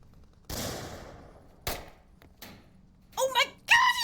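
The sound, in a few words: gunfire in the VR shooter video game Onward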